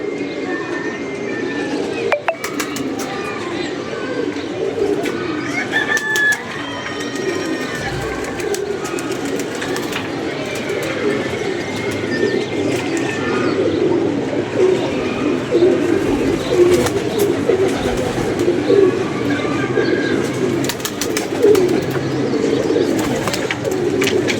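Pigeons coo repeatedly at close range over a murmuring outdoor background, with soft chirps and scattered clicks and rustles.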